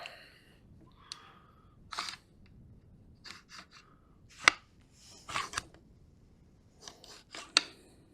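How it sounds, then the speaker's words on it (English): The bolt of a Thompson SBR rifle is worked by hand, giving a handful of sharp metallic clicks and short sliding scrapes spaced irregularly against a quiet background. "let's see how the bolt works"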